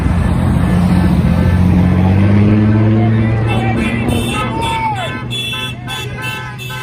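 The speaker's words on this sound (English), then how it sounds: "They drove around honking their horns." Cars in a street parade of supporters in Portland drive past with a steady engine rumble and crowd noise, and short horn toots and honks break out as the procession passes.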